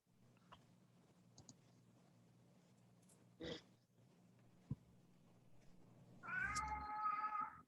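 A house cat gives one drawn-out, wavering meow near the end, loud and close, after a stretch of faint clicks and a brief rustle in a quiet room.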